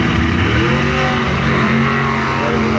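A rear-engine dragster revs hard and roars down a drag strip during bracket racing, a loud, steady engine note with rising harmonics filling the whole stretch, close and continuous.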